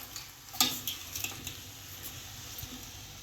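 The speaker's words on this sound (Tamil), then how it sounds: "இது எல்லாத்தையும் நம்ம நல்லா கலந்து விட்டுக்கலாம்" Vegetables for Kerala aviyal are stirred in a pot, giving soft scraping and clattering with a faint sizzle underneath, fairly quiet and close.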